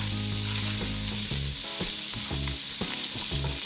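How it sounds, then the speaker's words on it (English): Shallots sauté in a hot pan with a steady, dense sizzle and crackle, close up and continuous, with no voices. "we're gonna saute our shallots"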